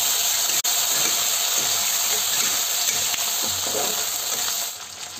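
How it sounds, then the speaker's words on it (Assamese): Potatoes drop into onions frying in oil in a pan, producing a loud, steady, close hissing sizzle that eases slightly toward the end. "আৰু এতিয়া এই আলুখিনি দি দিম।"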